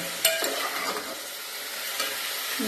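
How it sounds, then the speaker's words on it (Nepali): Steady sizzling of chicken frying in a pan, with a few scraping stirs near the start; no voices. "अलिक सेतो हुने गरी भुट्नुपर्छ चिकनमा चाहिँ"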